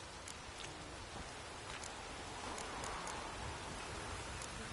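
A steady downpour falls in The Witcher 3: Wild Hunt, a dense, even hiss of heavy rain with scattered droplet patters, quiet and continuous with no voices.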